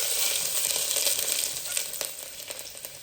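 Chopped garlic sizzles and fries in hot oil in a pressure cooker for a dal khichdi tempering with cumin, a steady close crackling hiss with a few sharper pops, no voices.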